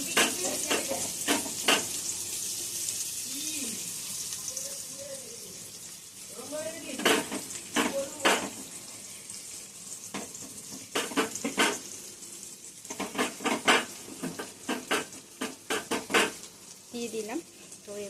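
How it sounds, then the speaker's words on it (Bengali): Green chilies and fried onion sizzle steadily in a frying pan, the quiet frying punctuated by sharp metallic clinks and scrapes of a utensil stirring, with a voice talking intermittently over it. "অলরেডি আমার কাঁচা লঙ্কাটা হতে শুরু করে দিয়েছে, ফাটতে শুরু করে দিয়েছে"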